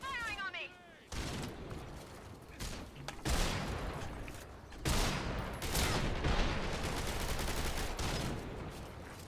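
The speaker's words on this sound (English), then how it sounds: "The enemy's firing on me." Enemy soldiers' gunfire in the Metal Gear game Fox Hunt, rapid bursts of shots crackling in repeated volleys close by, separated by short pauses, with a player's voice talking over it.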